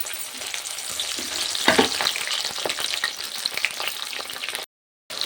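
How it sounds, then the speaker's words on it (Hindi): Sem beans fry in hot oil for pickle, giving a loud, steady crackling sizzle with stirring scrapes mixed in before a brief cutoff. "तेल आपको गरम करना है और सारा सेम को आपको इस तरीके से डाल देना है।"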